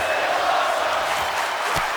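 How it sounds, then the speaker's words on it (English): In the WWE 2K wrestling video game, an arena crowd in Fresno keeps up a dense, continuous roar of chanting and cheering, with a dull thud near the end. "The crowd here in Fresno chanting, "This is awesome.""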